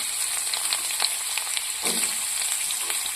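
Carrots dropped into hot oil tempered with panch phoron five-spice, a bright steady crackling sizzle close by with small pops and a brief rustle as they settle.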